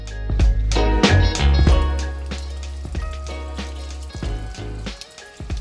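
Fresh mint rinsed under a running kitchen tap, a loud close rush of water with splashing and rustling as the leaves are turned, easing slightly toward the end.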